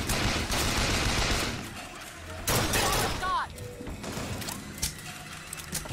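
Loud gunfire from a heavy-recoil gun in BioShock Infinite rings out in sharp blasts with crashing game effects, clattering mechanisms and someone talking over the action.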